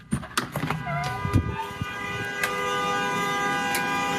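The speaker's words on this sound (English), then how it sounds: "he's greeted by a loud, sustained honk coming from an idling bus at Kipling Station" A loud horn from an idling bus at Kipling Station blares in one steady, unbroken tone, after a few brief clattering noises at the start.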